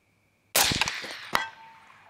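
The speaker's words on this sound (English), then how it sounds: "I'm gonna shoot one more." A single rifle shot fired at a target while sighting in a thermal scope, a sharp loud crack after near silence, followed by a metallic ring and a second clang as it decays.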